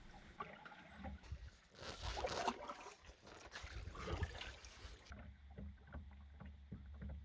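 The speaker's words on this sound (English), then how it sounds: "We will now begin to paddle our way back to the boat launch" Paddle strokes dipping and pulling through water beside a kayak on Makwa Lake, soft splashes and trickles repeating close by.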